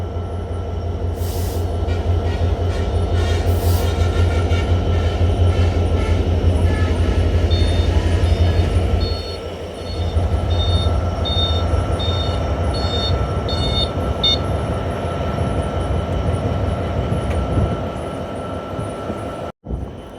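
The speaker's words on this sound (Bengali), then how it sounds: "আমাদের ট্রেনটি এখন ভাঙা জংশন ছেড়ে যাচ্ছে" The Intercity Ruposhi Bangla Express pulls out of Bhanga Junction with a loud, continuous rumble and rhythmic wheel clatter heard from on board, thin high tones ringing over it for a while.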